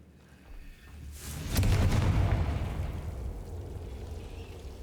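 A Confringo explosion spell goes off in Hogwarts Legacy: a sudden loud boom with a crackling burst that swells over about a second, then decays slowly into a rumbling tail.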